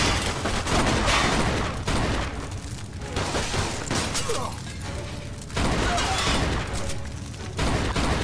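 Thompson submachine gun fire in the game Mafia 2, dense rapid bursts of loud automatic shots with brief pauses between volleys, close and continuous.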